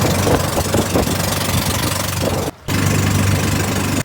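A boat's engine running as it carries passengers across shallow water to an island in Quezon, a loud, steady, close drone with a brief dropout partway through, no voices.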